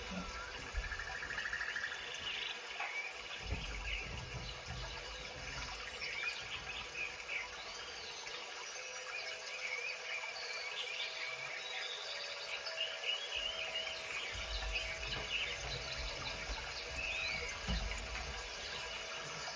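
Birds chirp and twitter over a steady wash of running water, fairly faint, with occasional soft bumps and a low rumble.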